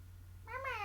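A cat gives a single short meow near the end, rising and falling, over a steady low hum, with no talk.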